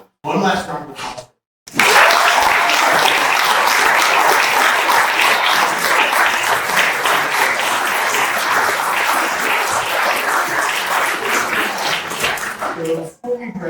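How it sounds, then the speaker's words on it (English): Loud, sustained applause from an audience at an awards ceremony fills the room for about twelve seconds, preceded and followed briefly by a voice speaking. "One last round of applause"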